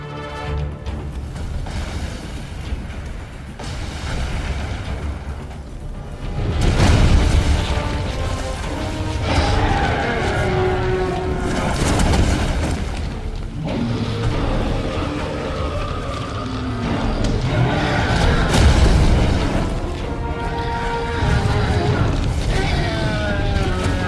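In Resident Evil 6, during Chris's campaign, a hulking enemy hurls a car, producing heavy booming crashes and smashing impacts, with two loud peaks rising over a dense, rumbling game soundscape.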